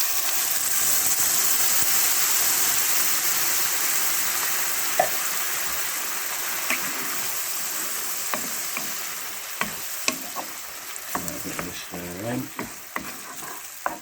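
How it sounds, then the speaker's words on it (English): Tomatoes frying in butter alongside golden-browned white bream fillets, a steady close sizzle that thins out over time while sharp spatula scrapes and taps grow more frequent toward the end, with no talking. "now that they're just turning nice and golden brown in the butter, we're going to add the toms"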